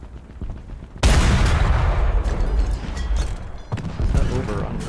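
Cannon fire from an M8 HMC, a low-velocity howitzer on a light tank chassis in War Thunder: a single sudden loud boom followed by sustained rumbling battle noise and a second blast, with no talk.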